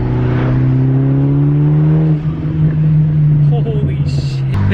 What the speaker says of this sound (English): Yep, pops and bangs still work.